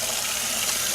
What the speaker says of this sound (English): I peel them under cold running water